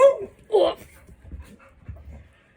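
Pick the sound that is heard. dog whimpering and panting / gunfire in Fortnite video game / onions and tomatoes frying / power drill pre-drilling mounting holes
dog whimpering and panting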